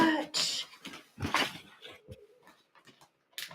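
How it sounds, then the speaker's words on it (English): A pet dog whimpers and yips in short, high whining bursts around a house, mixed with people talking nearby. "we have doggies all around our house"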